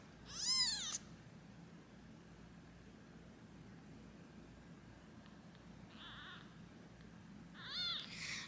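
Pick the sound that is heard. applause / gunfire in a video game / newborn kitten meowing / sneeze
newborn kitten meowing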